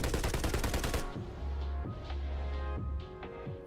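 Car-mounted machine guns in Cyberpunk fire a rapid, loud burst of shots that stops abruptly after about a second, leaving the low rumble of the engine with a few faint thuds.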